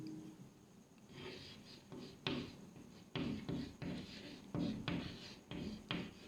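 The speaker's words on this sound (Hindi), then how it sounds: "यहां लिखेंगे" Chalk or marker writing on a board during a chemistry lecture, a series of short scratchy strokes and taps in bursts, fairly faint and close, with no talking.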